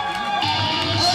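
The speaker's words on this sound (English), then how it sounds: "Round of applause right now, please." A concert crowd at a rock show in New Brunswick, New Jersey, cheering and whooping in a short loud burst, with shouts rising over the general roar.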